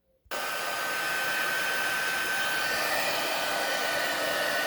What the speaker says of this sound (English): I'm going to turn on the heat emboss, and it's going to make a little bit of noise while it warms up